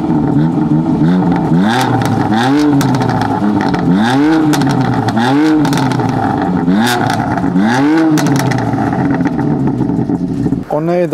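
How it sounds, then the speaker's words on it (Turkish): A BMW M4 CS with its original exhaust starts and revs repeatedly, loud, close engine sweeps rising and falling in a steady rhythm of blips, with voices talking over it. "Egzozunu dinleyelim."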